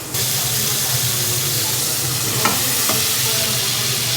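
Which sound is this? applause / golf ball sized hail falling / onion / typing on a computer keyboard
onion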